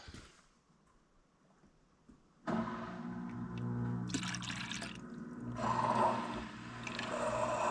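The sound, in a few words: wet vacuum sucking liquid from bucket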